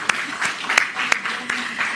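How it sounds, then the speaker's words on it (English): A press briefing audience applauds an ambassador, a short burst of distinct, fairly close claps in an uneven rhythm, with some voice mixed in. "I would love if you could join me in giving her a round of applause."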